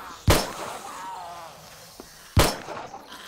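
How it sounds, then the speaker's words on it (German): Gunshots at night in 7 Days to Die, two sharp loud single shots about two seconds apart, each with a short ringing decay. "Schüsse in der Nacht."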